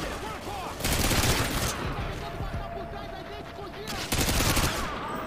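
Dense gunfire from a Call of Duty Modern Warfare match, with bursts of automatic fire and overlapping shots clustering in two loud stretches and steadier firing between them, and players talking over it.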